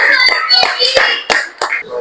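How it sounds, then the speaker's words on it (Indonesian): A high school physics class claps for a presenting group, a short burst of a few sharp, distinct hand claps close by, with children's voices chattering between them. "Ya, tepuk tangan dulu buat mereka semua"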